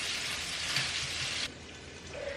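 Ham and egg fry in a pan for breakfast with a steady, close, hissing sizzle that drops slightly in intensity partway through, and no talking.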